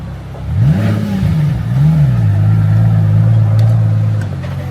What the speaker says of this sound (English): the deep resonant hum of supercars rolling past like moving pieces of art